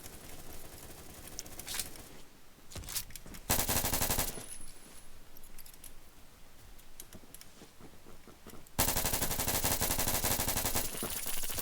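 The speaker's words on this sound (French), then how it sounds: "Pourquoi je tire avec une SMG sur un mec qui est à 30 km de moi?" Rapid SMG bursts in the Phantom Forces shooter game: a dense, loud stream of automatic gunfire, then a quieter stretch, then a second long sustained burst near the end.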